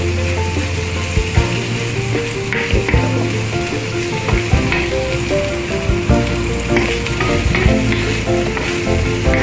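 Smoked lumek fish frying in a pan for Sarawak sambal gives a loud, steady, dense sizzle with continuous stirring and scraping clatter close by, and no voices.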